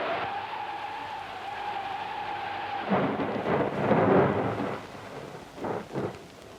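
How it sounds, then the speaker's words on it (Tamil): A thunderstorm with wind and rain: a steady rushing hiss of rain and gusts, then heavy rumbling thunder rolls in and swells in several loud bursts. "வெளியே காத்து அதிகமா இருக்கு, மழையும் பெய்யுது"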